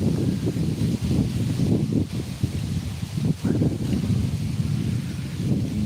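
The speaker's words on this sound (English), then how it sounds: "Boy, that wind is getting wild." Strong wind gusting outdoors, a loud continuous rumbling roar buffeting the microphone with rustling bursts throughout, no voices.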